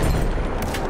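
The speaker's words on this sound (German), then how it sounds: "Feindliches Maschinengewehr!" Enemy machine gun fire in the World War I shooter Battlefield 1, a short, dense, rumbling burst of rapid shots, loud and continuous.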